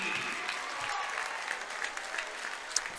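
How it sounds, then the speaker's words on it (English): Home fans at a boys high school basketball regional final clap as a senior player checks out of the game, a moderate, steady round of applause from the stands heard at some distance. "Brame checking out, get a nice round of applause from the Edgar faithful"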